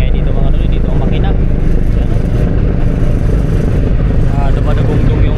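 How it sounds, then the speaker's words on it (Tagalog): A ship's engine roars loud and continuous from the engine area at the back of a crowded passenger vessel, a heavy low rumble steady throughout. "Dumadagong yung makina dito."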